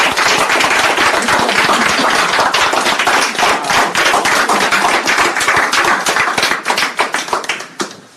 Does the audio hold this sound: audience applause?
yes